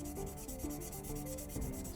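Steady rhythmic hand sanding rubs back and forth against a hard surface, close and fairly quiet, with no voices.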